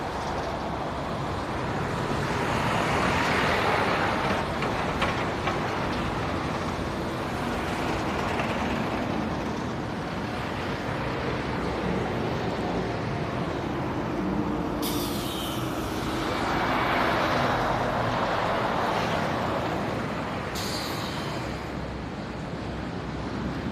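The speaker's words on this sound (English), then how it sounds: "All of a sudden, big rush of traffic." Roadside traffic rushes past, a loud broadband roar swelling and fading as vehicles pass, with wind buffeting the microphone outdoors.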